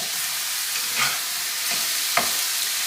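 Food for chicken marsala sautés in a pan with a steady, close hiss of sizzling, broken by a few soft scrapes of stirring.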